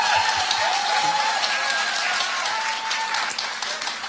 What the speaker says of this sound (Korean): 이럴 때 박수 한번.